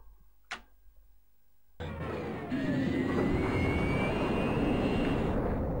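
An F-16 jet engine in a Commodore 64 flight game spools up after a short click, becoming a loud continuous synthesized roar with rising whine tones that holds steady to the end.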